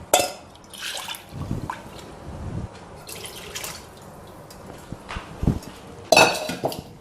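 A pot of thick araithu vitta sambar being stirred up close, with intermittent metallic scrapes and clinks of a ladle against the pot and soft liquid sloshing, no talking.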